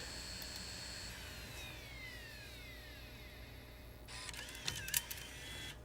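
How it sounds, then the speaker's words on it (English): A G3 iMac's CD drive whirs with a rising mechanical whine, then a few close clicks and clunks as the disc ejects, amid steady room hum. "let's eject this disk"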